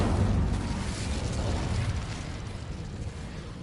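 Incendio fire spell cast in Hogwarts Legacy, a loud, dense burst of roaring flame that swells at once and holds steady for a few seconds before easing slightly, with no voices over it.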